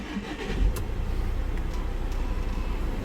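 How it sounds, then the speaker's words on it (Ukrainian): A 2017 VW Crafter van engine turns over and catches, then settles into a steady low idle with no voices. "І зараз ми цей автомобіль вам заведемо."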